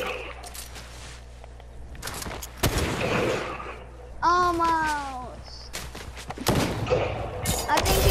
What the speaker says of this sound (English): Somebody shooting over here.